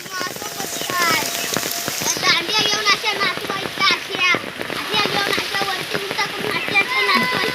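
Heavy first monsoon rain pours onto surfaces in a Konkan village, a loud continuous patter and splash. Children and adults talk and call out over it.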